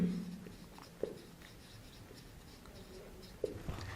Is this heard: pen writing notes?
yes